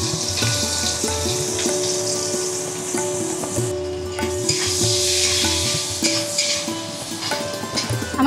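Onion frying in oil with bay leaf, cardamom, cloves and peppercorns, a continuous close sizzle with intermittent spatula stirs and scrapes, with no talk.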